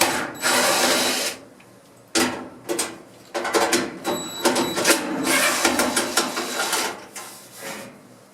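A power driver whirs in loud bursts, backing out the two screws holding a clothes dryer's heat element, with short pauses and handling clatter between runs.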